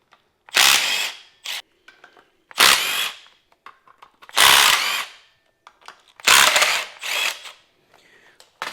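Power tool, an impact gun or drill, removing 15 mm compressor bolts on an LS 6.0 engine in a C10 Squarebody truck: four loud close bursts of whirring and rattling, each about a second long, with short gaps and clicks between.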